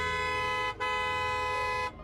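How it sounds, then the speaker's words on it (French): A car horn sounds twice outside an orphanage: a long, loud, steady honk, a brief break, then a second long blast that cuts off abruptly. "la voiture de Monsieur Julien arrive devant l'orphelinat et klaxonne"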